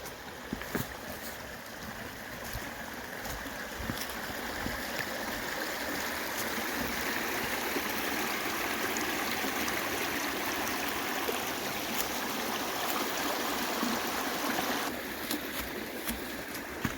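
A brook along the New England Trail flows steadily over rocks, a continuous close rushing and gurgling of water that holds an even level throughout, with a few faint clicks and knocks.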